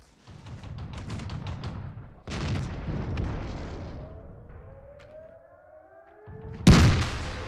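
A KV-3 tank cannon in the World of Tanks video game fires with sharp booms, followed by rumbling engine and track noise and rising mechanical whines. A final loud, close blast lands near the end.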